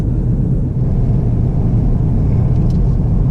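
Cadillac ATS 2.0T fitted with a ZZP throttle body cruising on the road, producing a loud, steady low engine drone and tire rumble from inside the cabin, with no talking.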